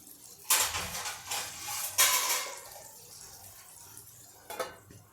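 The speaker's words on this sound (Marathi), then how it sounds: "तर आता मी याच्यावर झाकण ठेवून देते" A lid set onto a pan of cauliflower dry vegetable gives two sharp metallic clanks close by, then a softer clink, with a quiet sizzle in between.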